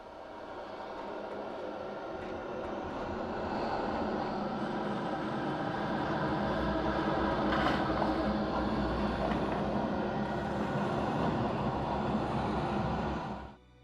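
A processed bat swarm sound effect from the video game Alan Wake: a dense, rumbling roar of fluttering wings swells over the first few seconds and holds steady and loud before cutting off abruptly.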